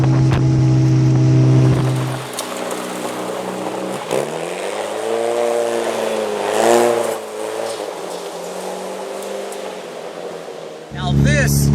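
Austin Healey Sprite, a classic small British sports car, driving on a road in light misty rain, steady engine drone rising and falling with gear changes, heard from inside the car, close and fairly loud.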